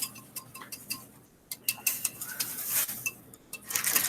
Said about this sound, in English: you keep whisking it until it becomes very creamy